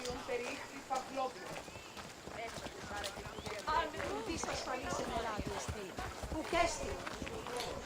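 Rhythmic hoofbeats of a horse clip-clopping along at a quick pace, with people talking over the top most of the time.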